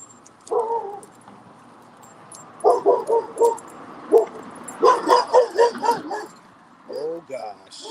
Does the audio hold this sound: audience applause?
no